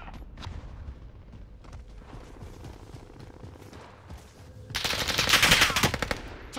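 Machine gun fire in the Call of Duty: Modern Warfare video game, with scattered bursts of distant gunfire building to a loud, dense, rapid volley near the end.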